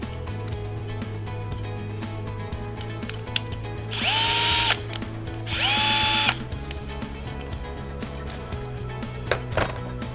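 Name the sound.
cordless drill running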